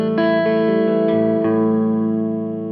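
Delta blues slide guitar moves through a 5-4-1 chord progression, with a few plucked attacks and strings left ringing into a sustained, reverberant chord that slowly fades.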